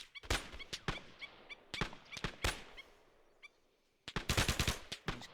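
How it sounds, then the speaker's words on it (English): A Thompson submachine gun fires in short, sharp bursts in a military tactical game, crisp rapid cracks grouped in clusters with brief pauses, ending on a longer burst, no voices. "Team leader's armed with a Thompson submachine gun,"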